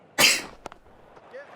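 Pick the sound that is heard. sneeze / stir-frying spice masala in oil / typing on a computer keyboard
sneeze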